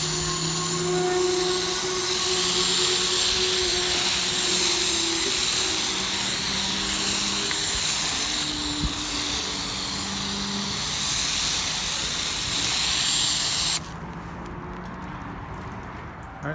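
A pressure washer sprays Blackfire foam booster onto a car, a loud steady whine and hiss running on without a break, then cutting off sharply near the end and leaving quieter background noise.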